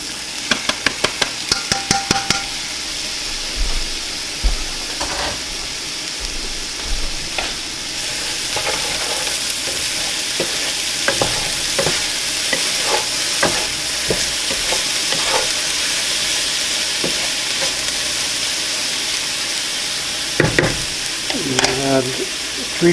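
Beef sizzles and fries in a pan with cooked-down vegetables, a constant crackling hiss broken by repeated scrapes and knocks of a utensil stirring close by.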